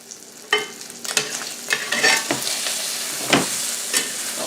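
Bacon fries in a pan with a close, steady sizzle, and a few louder bursts of spatter and stirring scrapes come through it.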